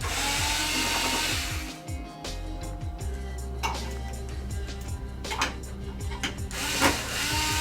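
Screws being backed out of the feet of an LG 60LB7100 TV stand, a busy mix of small metallic clicks, taps and rattles with a brief whirring start, close up and without talk.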